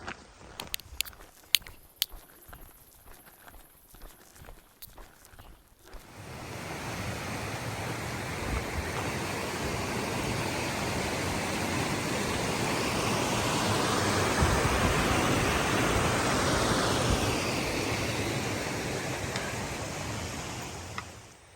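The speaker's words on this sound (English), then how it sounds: "that is a mighty fine creek you have there" A few scattered clicks and footsteps on a trail, then a creek's steady rushing flow fills the rest, loud and continuous.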